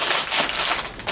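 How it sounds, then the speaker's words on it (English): Plastic bags of diamond painting drills crinkling and crackling up close, a continuous dry rustle lasting about a second with no talking. "Sorry for the crinkling."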